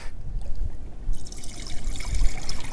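A mixture of water and fuel drains from a tank in a steady trickling stream, splashing louder and brighter partway through, close by.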